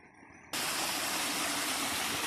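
Water falling into a pool at Mallankuzhi Chola in Kadangode, Thrissur district, a loud, dense, continuous roar of cascading water that starts abruptly after a brief quieter moment.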